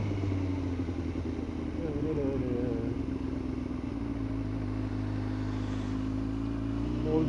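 Yamaha YZF R6 motorcycle engine after an RPM stuttering fault fix, pulling away in first gear with a steady low rumble and rising engine tone, close and continuous, with a voice talking over it.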